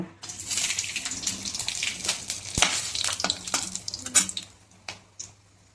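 Spice paste fries in hot oil with a bright, close sizzling hiss, broken by the clatter of stirring and scraping. The sizzle fades to a few sharper knocks toward the end.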